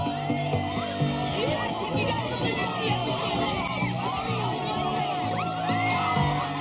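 Large outdoor crowd outside a London music building, many voices singing and shouting together at an acoustic guitar performance, a dense, continuous, loud wash of voices with whoops throughout.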